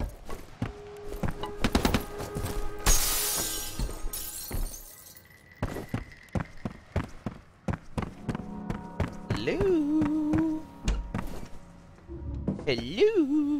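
Gunfire and impacts in the shooter video game FEAR, sharp irregular shots and crashes with a burst of glass shattering, mixed with game effects and occasional player voice.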